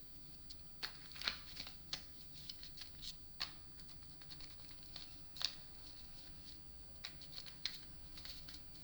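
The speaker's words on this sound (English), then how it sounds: "Let me get these cards pulled." Tarot cards are shuffled and drawn in a quiet room, making faint papery riffles and soft, crisp snaps spread unevenly over several seconds.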